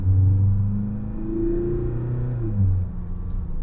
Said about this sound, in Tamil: கொஞ்சம் ப்ரெஸ் பண்ண பார்த்தீங்கன்னா இன்ஜின் வோக்கலாக கேட்குது நமக்கு